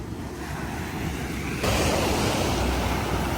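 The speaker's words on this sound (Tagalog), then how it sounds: "Pero mataas pa rin yung ano, yung alon." Ocean surf rolling in high waves, a steady broadband wash that swells louder midway and stays strong, with wind buffeting the microphone throughout.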